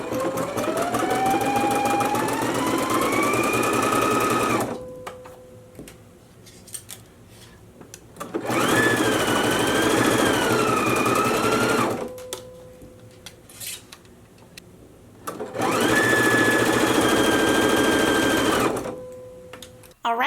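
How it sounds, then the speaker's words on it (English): A home sewing machine stitches a neckband seam on a McCall's 7975 front twist top in three long, steady whirring runs, each separated by a brief quiet pause. "we can take it to the machine and go ahead and stitch it at a 5/8 of an inch seam allowance"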